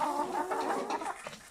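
Hens cluck in a farm coop, a run of soft, close, overlapping calls heard alone and fading slightly toward the end.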